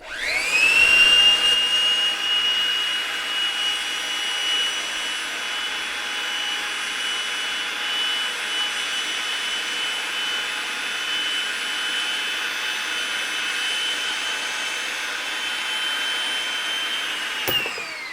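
Powered pipe-cutting machine running on gas line pipe, giving a continuous, steady high whine with bright tonal harmonics. It holds at an even level for the whole stretch and stops abruptly near the end.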